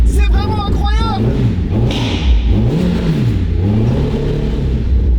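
A Mini Cooper prototype fitted with a rear-mounted motorcycle engine revs close by, its pitch rising and falling in repeated swells that stay short of the redline; a voice talks briefly at the start.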